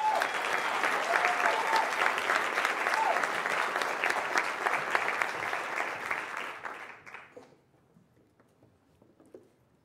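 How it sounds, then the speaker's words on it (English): An audience at a teacher of the year ceremony applauds steadily for several seconds, the clapping loud and even before tapering off to near silence. "Let's give Ashton another round of applause."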